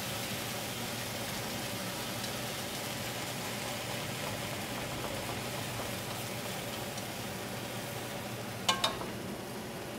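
Noodles stir-frying in oil in a wok for soy sauce chow mein, producing a steady, dense sizzle throughout with a couple of brief metallic clinks near the end.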